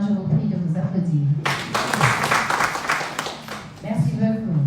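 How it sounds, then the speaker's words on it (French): A voice speaks briefly in French, then a workshop audience bursts into applause for a few seconds before talking resumes. "je vous prie de vous applaudir."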